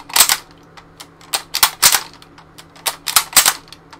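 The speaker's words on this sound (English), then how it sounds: "the Lee Enfield still has a really sweet cycling noise" Lee Enfield rifle bolt action cycling in a video game, a series of crisp mechanical clicks and clacks in quick irregular bursts, close and fairly loud with no talk.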